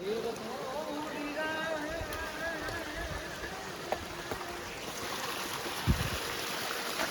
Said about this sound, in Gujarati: મિત્રો બાટલા ભરે છે પાણીના.